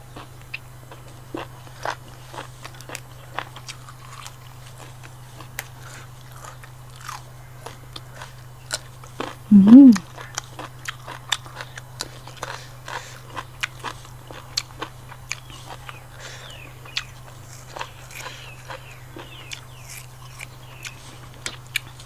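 Close, steady crunching of someone chewing a crisp Thai spicy salad with fresh vegetables, sharp bites repeating irregularly throughout, with a faint steady hum behind.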